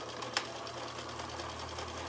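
A sewing machine steadily stitches around a curve on a Christmas tree napkin, its close, even whir running unbroken throughout, with one brief click early on.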